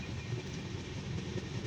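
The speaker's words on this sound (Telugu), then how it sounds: "ఈ ట్రైను LHB కోచెస్తో రన్ అవుతుంది. విత్ WAP ఇంజన్తో రన్ అవుతుంది." The Visakhapatnam–Chennai SF Express, running with LHB coaches behind a WAP electric locomotive, gives a steady low rumble of train cars rolling along the rails, continuous and fairly faint.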